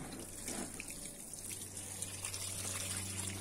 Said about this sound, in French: j'ai bien arrosé, donc j'ai fini